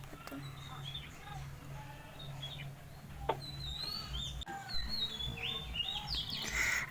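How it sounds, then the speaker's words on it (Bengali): Bright, high chirps and tweets from a cartoon bird come in short scattered bursts over a low background hum, with a brief sharp click midway. "বাড়ির সামনে তার প্রিয় পাখি নিনিকে দেখতে পায়"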